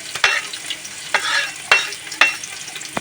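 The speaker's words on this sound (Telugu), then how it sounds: "ఇంకా 2 టేబుల్ స్పూన్ ఆయిల్, పచ్చిమిర్చి, ఆనియన్స్ వేసుకుందాం." Green chillies and onions fry in oil for a fish curry, a bright crackling sizzle broken by four sharp scraping stirs at uneven intervals, close and fairly loud, with no talk.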